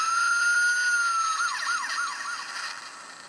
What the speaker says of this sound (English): if you do the combination sound effects, then he gets that siren at the end